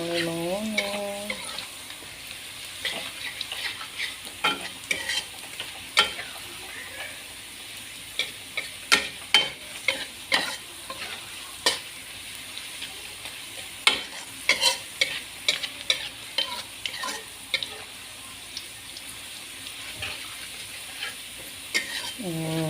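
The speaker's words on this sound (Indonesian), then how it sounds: "Terus kita aduk bentar lagi tuh, sudah mulai garing, sudah mulai menguning." Eggplant for a Betawi chili dish fries in a pan as a utensil stirs it, with repeated sharp scraping taps over a steady quiet sizzle that runs throughout.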